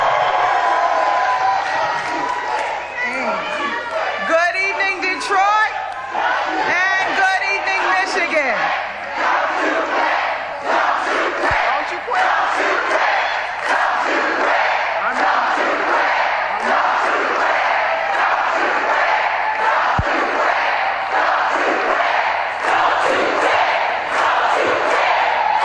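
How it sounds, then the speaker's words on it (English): A large political rally crowd chants a repeated slogan in rhythmic unison, loud and close, with bursts of cheering and clapping blending into a continuous roar. "Here's the crowd chanting, don't you quit."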